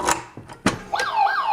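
Anti-theft alarm on a Rexmeo biometric pistol safe: after a few clicks and knocks, a loud electronic siren-like tone starts up and keeps rising and falling in repeated sweeps, close and alone.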